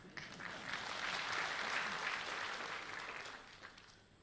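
A hall full of people applauds at a felicitation ceremony for the Chief Justice of India in Nagpur, the clapping swelling to a steady roar and then gradually tapering off.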